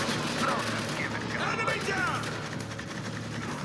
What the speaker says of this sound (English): The sound effects from guns add to the impact really well.